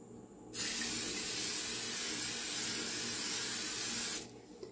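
A steady, loud hiss of aerosol cooking spray onto a pie baking dish, held for about four seconds, starting and stopping abruptly.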